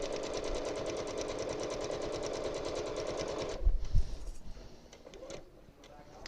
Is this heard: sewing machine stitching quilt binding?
yes